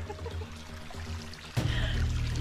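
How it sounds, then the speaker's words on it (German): Water poured into a large water filter on a mountain hike, a steady splashing pour starting abruptly partway through and continuing loudly to the end. "So, Wasserfilter groß auffüllen."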